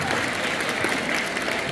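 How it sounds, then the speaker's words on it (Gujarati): A school audience applauds a prize winner at a Republic Day celebration, with dense, continuous clapping from many hands throughout. "જોરદાર તાળીઓનો ગળગળાટ વધવો જોઈએ."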